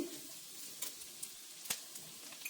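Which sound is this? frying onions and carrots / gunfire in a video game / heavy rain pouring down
frying onions and carrots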